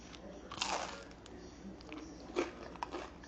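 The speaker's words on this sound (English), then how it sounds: "Did you hear that crunch?" Several crisp bites and crunches into the crust of homemade sourdough bread, close and fairly quiet, with two louder crunches a couple of seconds apart and lighter chewing between.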